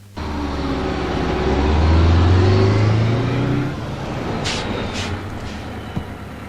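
A bus engine rumbles in, a loud, low, steady drone that swells as it draws near, then settles to a lower idle.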